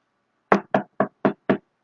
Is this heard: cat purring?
no